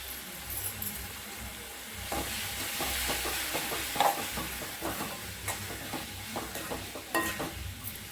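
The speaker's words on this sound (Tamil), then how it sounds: "இப்போ நம்ம இந்த கருவேப்பிலை பிடி போட்டுக்கலாம்" Curry leaves dropped into hot oil for a garlic and curry-leaf kuzhambu crackle and sizzle steadily, with scraping stirs in the pan throughout and no talking.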